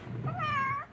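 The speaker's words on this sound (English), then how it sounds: "My cat won't shut the F up." A single drawn-out cat meow, close and clear, rising then falling in pitch over about a second.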